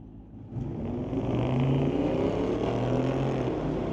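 Drag race launch between a 2006 Chrysler and a 2018 Camaro ZL1: engines rise sharply from a low idle into a loud, sustained roar of acceleration.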